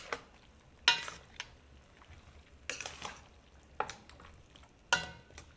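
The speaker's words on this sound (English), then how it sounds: "At this point you want to stir a lot because you want to lock in that color as well" Chicken coated with browning is stirred in a pot over a faint sizzle, with four or five sharp scraping clanks of the utensil against the pot spaced irregularly, close and quiet.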